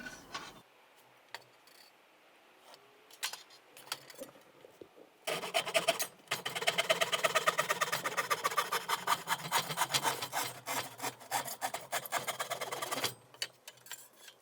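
A wooden side panel for a mason bee house is cut by hand, with a long stretch of fast rhythmic rasping strokes, close and fairly loud, preceded by scattered knocks and handling noises.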